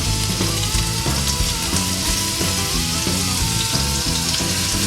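Flour sizzling and frying in a very hot pan as it is stirred, a loud continuous crackle with rhythmic scraping strokes of the stirring utensil, no talk.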